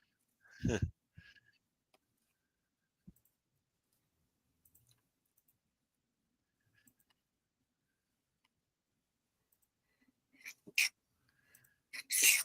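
A single sharp sneeze near the start, followed by long near-silence with a few faint clicks and some brief noise near the end.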